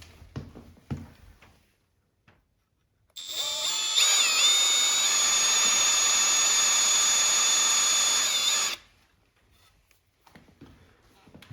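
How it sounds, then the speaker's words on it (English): Power drill pre-drilling holes in a wooden board for a DIY grow room light setup, a loud high whine held for about five seconds, close, alone with quiet handling before and after. "we have to pre-drill it before we screw into it"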